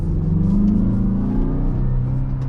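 A 2022 Mazda CX-5 with its 2.5-liter turbo engine accelerates, a steady, loud low rumble with rising engine tone heard from inside the cabin, no talking.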